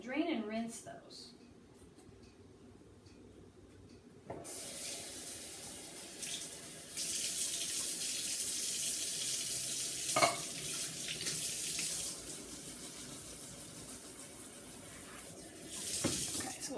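Tap water runs over drained canned beans in a kitchen sink, starting and stopping in bursts, with a person talking over the quieter stretches.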